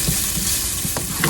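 A steady, close sizzle of onion frying in hot oil, with a couple of quick spoon scrapes as it is stirred in the pan.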